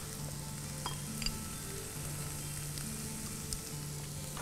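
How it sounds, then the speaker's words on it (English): Vegetables sauté in a pan as the base of a soup with lemon parsley dumplings, giving a steady, close frying sizzle with a low background hum and a few faint clicks, with no voices. "I'm going to let this cook for about a minute or two till the vegetables are nicely sauteed"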